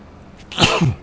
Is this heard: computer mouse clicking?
no